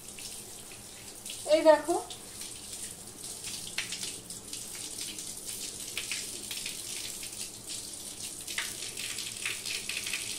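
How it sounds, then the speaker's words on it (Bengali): Tap water runs while sap is rinsed off a cut green jackfruit in a kitchen, a steady splashing flow with a brief louder gush near the start, under a voice speaking. "এবার ইঁচড়টা এই যে আঠা রয়েছে, এই আঠাগুলো আমি সাথে সাথে জল দিয়ে ধুয়ে নেব।"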